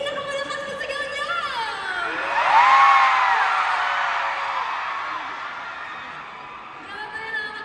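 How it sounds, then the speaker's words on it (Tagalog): A large concert crowd at the Araneta Coliseum roars with cheering and screaming that swells to a peak, then gradually fades, with some whoops throughout. "Gusto mo yung marinig ang pinakamalakas na sigaw niya!"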